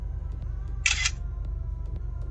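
A 70Mai Omni 360 dash camera takes a selfie with a single short, bright shutter click over a steady low hum.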